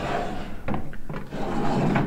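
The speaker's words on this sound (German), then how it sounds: "Das ist jetzt meine zweite Schublade." A makeup drawer slides open with a soft wooden rubbing and a couple of light knocks, close and fairly quiet.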